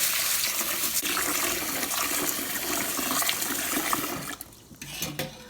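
Water runs steadily through a strainer as rice is rinsed and drained, a continuous close splashing rush that thins out and trickles near the end.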